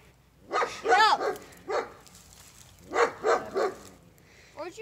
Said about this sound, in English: Stupid dog, though. It's going to give us away.